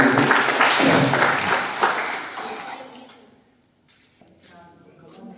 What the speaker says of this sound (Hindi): चलिए बहुत बड़े जोरदार ताली बजाइए।